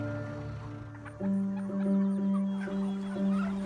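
Turkeys on a farm gobbling and clucking, a dense chorus of farm birds in a loud, steady flock sound with no talking.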